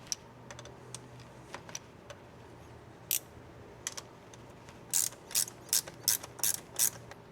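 Ratchet clicking while a bolt is removed from the diff lock linkage of a 1997 Land Rover Defender 110 300tdi; faint scattered ticks early, then a rhythmic run of louder ratcheting strokes near the end.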